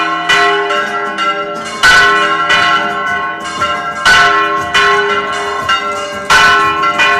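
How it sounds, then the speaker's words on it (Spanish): Church bells of Motril ring loudly and close during a floral offering to the town's patron saint, several bells striking in repeated overlapping peals with long ringing tones between strikes. "Vamos a dejar que suenen las campanas."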